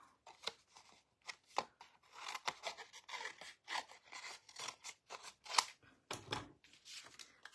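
Scissors snipping around a paper card piece, a close, quiet run of short irregular cuts and rustles with small pauses between strokes.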